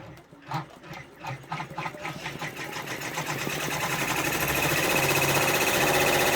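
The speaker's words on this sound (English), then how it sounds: "And we will let it do its 20 minutes of stitching, and then we'll be back." A home embroidery machine stitching freestanding lace starts with an uneven rhythmic clatter that speeds up into a steady, loud mechanical whirr of rapid needle strokes, heard close and alone.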